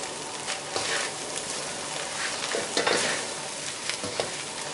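Mama instant noodles stir-fried in a pan over raised heat give a steady, dense sizzle and hiss, close and continuous, with faint scraping strokes mixed in.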